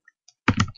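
A boot command is typed on a computer keyboard: two faint, light key taps, then a brief, louder clatter of keystrokes close by.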